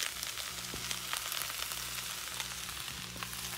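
Noodles fry in a hot pan with a steady, close crackling sizzle and a faint underlying hum, no voices present.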